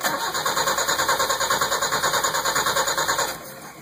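A Fiat 1200 fitted with a Toyota 3K engine is hot-wired with the choke partly closed, cranking in a fast rhythmic churn for about three seconds before the starter stops without the engine catching.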